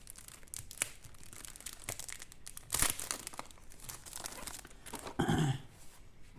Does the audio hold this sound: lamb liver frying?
no